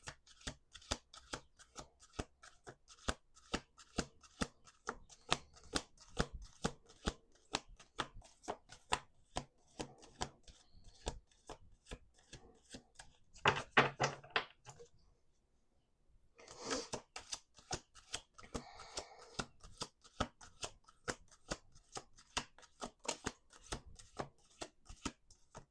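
Repeated riffle shuffles of a deck of cards, crisp rapid flutters close by, with a brief quiet pause midway before shuffling resumes.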